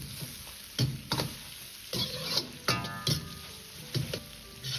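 Pork intestines stir-fried in a wok with soy sauce: a continuous hissing sizzle broken by repeated rhythmic scraping tosses of the spatula against the wok, roughly every half second, close and clear without speech.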